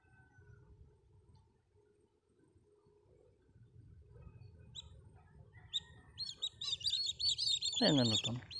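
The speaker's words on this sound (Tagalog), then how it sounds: "Daming ibon guys oh." Many birds chirp and tweet while fishing outdoors, a dense burst of calls rising loudly near the end over low rumbling background noise.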